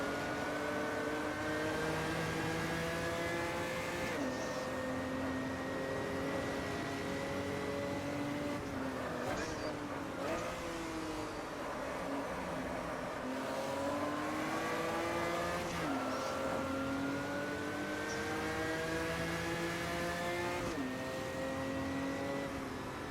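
An old-school V8 race car rumbles loudly and steadily, engine pitch rising and dipping through repeated acceleration and lift-off cycles as it laps a circuit, with no talk over it.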